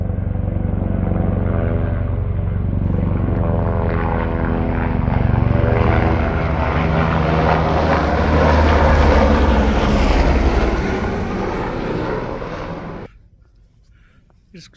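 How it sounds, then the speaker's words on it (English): A helicopter passes over Tengboche monastery in the cold, cloudy Everest region, a loud steady rotor and engine drone that swells and then cuts away abruptly near the end. "Some helicopter is flying by."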